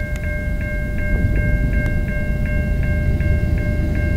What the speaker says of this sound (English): we have a CN eastbound coming